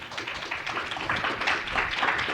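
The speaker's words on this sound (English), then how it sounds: "Please join me in giving them a round of applause." Audience round of applause for panelists at a veterans' rehabilitation and reintegration event, dense steady clapping at close range that rises a little toward the end.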